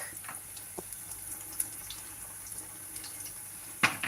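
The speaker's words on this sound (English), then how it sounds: "then just add a little water" Water is poured into a cooking pot of vegetables, including cabbage, with faint, soft splashing and a few light clinks in a quiet kitchen.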